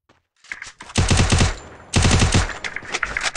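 Rapid bursts of loud gunfire in two long volleys, with sharp repeated shots rattling close and a brief pause between them.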